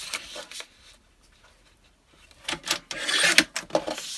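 Paper being cross cut on a trimmer for a folio project, a few short sliding and rasping strokes followed by a louder, close run of cutting and rustling, with no talk.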